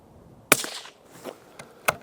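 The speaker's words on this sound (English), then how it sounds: "let's go for those Hornady NTX and see how they shoot" A Tikka T1X Hunter Wood rifle fires Hornady NTX ammunition outdoors: one sharp, loud crack with a short ringing decay, then a fainter distant smack a moment later in otherwise quiet surroundings.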